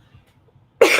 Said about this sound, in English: leftover cough from the COVID